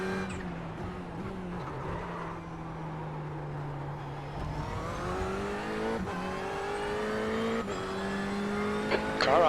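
Race car engine in a Le Mans endurance racing game, a sustained revving drone whose pitch rises as it accelerates, steady and close with a faster car's engine note building behind it.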